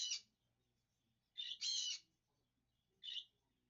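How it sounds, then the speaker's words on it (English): A pet bird lets out shrill, piercing squawks, close and loud: one short cry, a doubled scream a moment later, then another brief squawk, with quiet gaps between. "We got our screaming, squawking bird over here, per usual."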